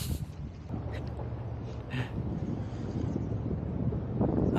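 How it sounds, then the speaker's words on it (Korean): Strong wind buffets a microphone outdoors by the water in Yokohama, a steady low roar and rumble that swells and gusts throughout, with faint background sounds beneath. "이 사운드 자체가 바람 소리가 엄청 많이 들어가 있는데"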